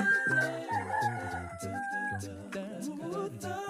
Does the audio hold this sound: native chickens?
yes